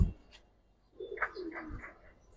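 A soft, low pigeon coo rolls out near the middle, preceded by a brief thump, fairly quiet and close.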